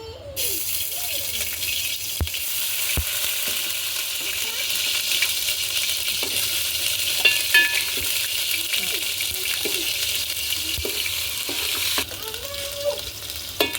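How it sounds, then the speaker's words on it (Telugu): Ginger garlic paste frying in hot oil over a village-style wood-fired stove, a steady loud sizzle with occasional clinks and stirring scrapes, and a voice speaking over it now and then. "నూనె వేడైంది ఫ్రెండ్స్ ఫస్ట్ అల్లం వెల్లిపాయ పేస్ట్ వేయించుకుందాం"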